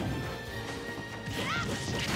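An up smash lands with a sharp crash and thwack in Super Smash Bros. Ultimate, heard amid layered game sound effects and a rising whoosh near the end.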